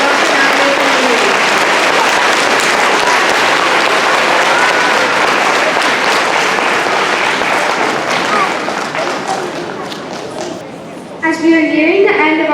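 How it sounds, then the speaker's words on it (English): A school recognition assembly crowd applauds departing staff members, a loud, dense stretch of clapping that gradually thins near the end before a voice speaks. "Let's give these departing staff members a round of applause"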